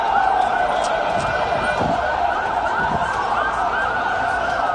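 A wailing ambulance siren sweeps up and down continuously, loud and fairly close, over a noisy street background at an explosion scene.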